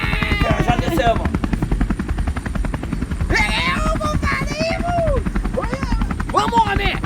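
Helicopter rotor chopping loudly and continuously close by, its rapid pulsing beat under animated talk from several people throughout.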